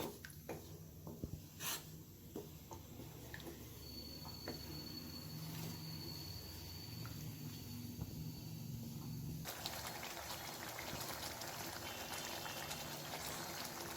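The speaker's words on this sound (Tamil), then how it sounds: "நல்லா கொதிக்குது." A pan of mealmaker (soya chunk) gravy bubbling steadily, a soft continuous simmer with faint pops, growing a little fuller and brighter partway through.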